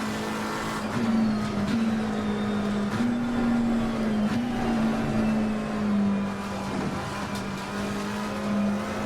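Race car in Assetto Corsa Competizione holding a steady engine drone at near-constant revs, with small dips and surges as the car moves along the track, close and continuous with no talk.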